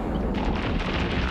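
Enemy gunfire in the side-scrolling video game Planet Alpha, a dense, steady rumble of shots and booms blending together throughout, moderately loud with no talking.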